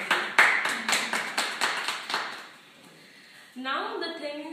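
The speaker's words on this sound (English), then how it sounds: "There's a huge round of applause for all of you." About seven sharp claps ring out at a steady pace in an office meeting, as if from a single person or a small group, then fade before a voice begins speaking.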